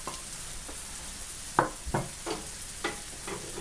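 Spices for turkey mince samosas fry in a pan with softened mince and vegetables, giving a continuous close sizzle broken by several scraping stirs of a spoon.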